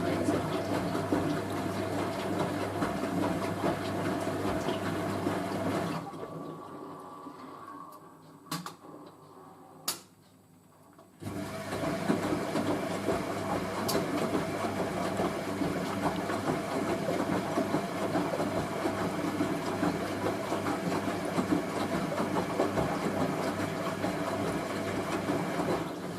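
A Hoover A3060 washing machine on its final spin with a jumbo sofa throw inside, a loud steady mechanical whir and rumble that cuts out briefly partway through and then resumes.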